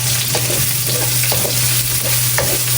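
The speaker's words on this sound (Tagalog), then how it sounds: "Ilalagay ko na po itong sibuyas, bawang at luya." Onion, garlic and ginger frying in hot oil for chicken adobo, a steady loud sizzle with soft stirring scrapes at intervals and no voices.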